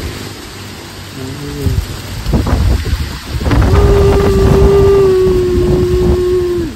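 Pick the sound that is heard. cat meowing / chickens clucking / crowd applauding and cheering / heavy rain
heavy rain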